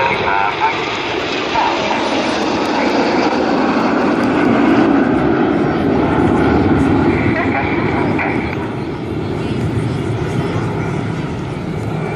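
Red Arrows BAE Hawk jets flying in formation at an airshow, a broad steady jet roar that swells slightly mid-way and stays loud throughout, with a commentator talking over it.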